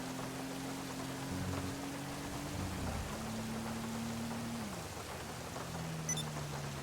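Rain falling in the video game GTA V, heard as a steady soft hiss of rainfall under a low droning engine-like tone that shifts pitch, with a faint chime near the end and no talking.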